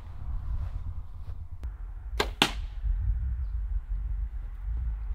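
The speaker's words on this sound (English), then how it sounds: "That was more of a, like a glass shattering kind of sound. Bone breaking." A broadhead-tipped arrow strikes and cracks through an elk shoulder blade bone, making two sharp, bright snapping impacts in quick succession against a steady low outdoor rumble.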